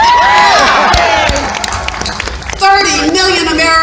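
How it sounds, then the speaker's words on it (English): A large outdoor rally crowd in New York City claps and cheers loudly, whoops and shouts rising and falling over a speaker's amplified voice. "You can clap for that."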